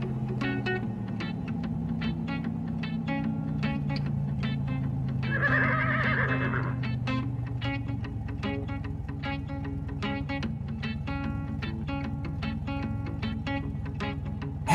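A toy horse lets out one loud whinny midway through, over a constant engine hum and a steady ticking rhythm from Brio toy trains.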